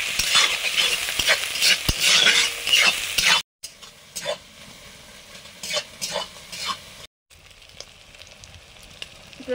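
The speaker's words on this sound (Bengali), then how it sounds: "লঙ্কা কুচি, পেঁয়াজ কুচি, একদম হাই ফ্লেমে ভাজবো।" Chopped chili and onion fry over a high flame, a loud steady sizzle with sharp stirring scrapes that drops in level after two brief cutoffs, continuing alone without voices.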